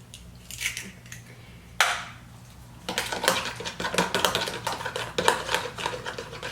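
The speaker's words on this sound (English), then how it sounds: "And you're going to whisk this together." An egg is whisked into a chicken marinade for Southern fried chicken, with a brief clatter followed by a fast, continuous run of close metallic clicks and scrapes against the bowl.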